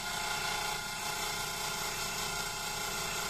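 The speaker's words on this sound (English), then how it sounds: "to clean the bottom of the curve here, we can use our parting tool, and we can just gently push forward like that and just move it from side to side" Woodturning lathe with a parting tool gently pushed in and moved side to side to scrape clean the bottom of a curve, a steady faint whirring hum with light scraping texture, continuous and without talk.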